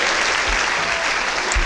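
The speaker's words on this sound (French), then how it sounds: "On applaudit le président" Loud, close applause from an audience at a pleading-competition final fills the moment, a thick continuous burst of clapping for the president.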